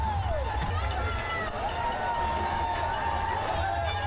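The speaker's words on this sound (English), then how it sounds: "The cheers are mostly this long, high-pitched, woo, woo, rather than actual words." Spectators along the NYC Marathon course cheer with long, high-pitched whoops over a steady crowd roar, loud and continuous around the passing runners.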